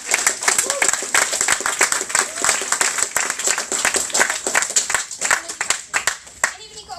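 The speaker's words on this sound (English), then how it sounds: "If we can clap Rachel" An audience at a charity talk applauds a speaker with dense, sustained clapping that runs the whole stretch at moderate volume, fading a little near the end.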